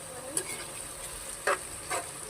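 Onions are stirred in a pan of chicken curry, giving three brief, quiet scraping strokes of the spoon over a soft background hiss.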